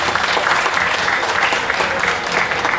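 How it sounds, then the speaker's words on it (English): A county fair show audience bursts into a big round of applause, dense steady clapping that stays loud and close throughout with no talk over it. "give them a big round of applause"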